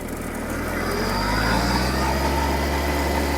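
A Kubota GB-13 mini tractor engine runs close by in reverse, its low chugging drone rising slightly in pitch as the clutch engages and it revs and takes load.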